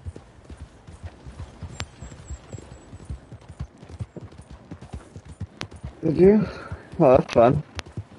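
Horse hooves clip-clop steadily in the Red Dead Online video game, a soft rhythmic trot running under conversation, with louder voices breaking in near the end.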